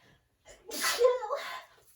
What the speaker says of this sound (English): I'm gonna pull off this little tape while I feel a sneeze